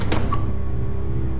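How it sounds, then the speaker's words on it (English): A door in the pixel horror game Ib unlocks and swings open: a quick mechanical click and clunk at the start, then a drawn-out creaking tone that fades away. "And it unlocks the door."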